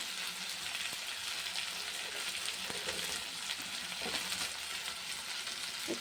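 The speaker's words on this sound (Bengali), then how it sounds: "এরকম মশলাটা ভাজা হয়ে গেছে" Spice paste fries in a pan alongside potato and green plantain, giving a steady, dense sizzle and crackle that runs unbroken for the whole stretch, with no voices.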